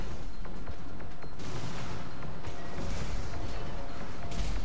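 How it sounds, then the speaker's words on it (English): A big missile launches in the Armored Core VI mech combat game amid dense, loud explosive blasts and rumbling gunfire with mechanical clanks, continuous and close. "Ooh, big missile!"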